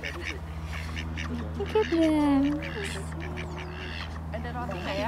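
White ducks on a day trip in Tasmania quack and call nearby in short bursts, one drawn-out honking call standing out, while people talk over a low steady hum.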